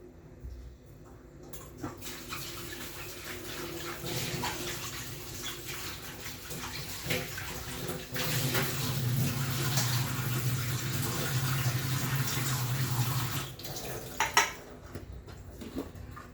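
Bitter gourd is rinsed under a running kitchen tap, a continuous splash of water lasting several seconds with occasional light clinks of dishes, no talking.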